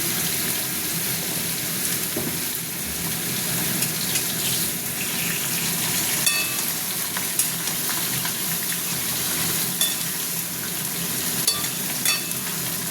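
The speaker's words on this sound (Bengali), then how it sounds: "এই যে এইদিকে মাছ ভাজছি, এটা মুড়োটা ভাজা হচ্ছে" A fish head fries in hot oil with a constant crackling sizzle, broken by occasional light clinks of a utensil nearby.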